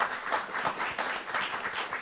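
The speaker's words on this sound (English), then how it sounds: "So quick round of applause for amazing panelists." An audience applauds panelists at a discussion on affordability for older New Yorkers, a brisk round of hand clapping from a modest crowd, close and fairly loud.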